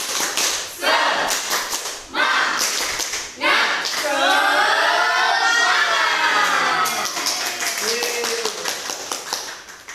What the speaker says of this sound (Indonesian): marilah kita tepuk semangat bersama-sama